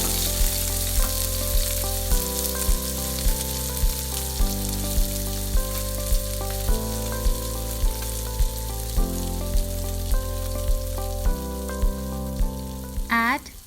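Beef sizzles in a pan for Kerala-style beef fry, a steady frying crackle under a looping background melody with regular soft beats.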